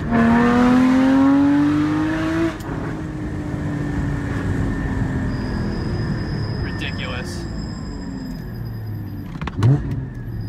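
A 400-whp Dundon Motorsports Porsche Cayman GT4 driven hard on a track, a loud engine rising in pitch through the gears, then a quieter steady drone with brief sharp transients near the end.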